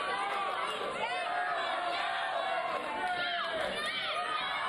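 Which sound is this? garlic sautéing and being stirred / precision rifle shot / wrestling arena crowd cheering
wrestling arena crowd cheering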